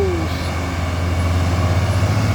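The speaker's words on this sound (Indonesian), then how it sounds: "Ini dia truk engkel" A single-axle light truck labors uphill, its engine droning low and steady with a constant heavy hum, close by, while road noise fills the background.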